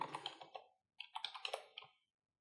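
Close, crisp computer keyboard typing: a quick run of key clicks, a short pause, then a second flurry of taps that stops, with no other sound around it.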